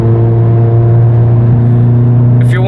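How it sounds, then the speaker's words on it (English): A turbocharged Volkswagen MK7 GTI, Stage 3+ big turbo at 450 horsepower, rumbles with a steady low exhaust drone while accelerating, loud and close, with a brief higher whine near the end. "if you can hear the exhaust pretty good"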